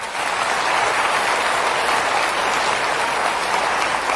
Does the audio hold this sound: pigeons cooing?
no